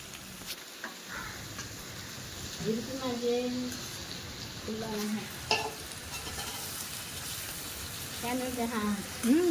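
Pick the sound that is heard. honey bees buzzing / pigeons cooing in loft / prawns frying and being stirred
prawns frying and being stirred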